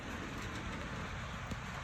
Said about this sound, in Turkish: Böyle inceden ince ince bir yağmur yağıyor.